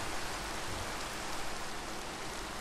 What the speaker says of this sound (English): I just want the rain to stop.